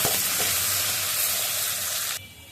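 Potatoes and carrots frying in a pan give a steady, close, dense sizzle that cuts off abruptly near the end, with no talking.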